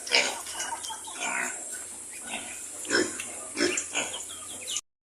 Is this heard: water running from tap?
no